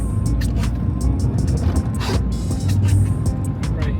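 A Mk1 Audi TT 225 accelerates in third gear from 1500 rpm, a steady low engine drone heard from inside the car with faint clicks and rattles over it.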